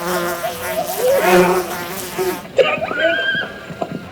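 Wasps buzz in an old film soundtrack, a thin droning whine under musical tones that gives way to sharper scattered noises in the second half.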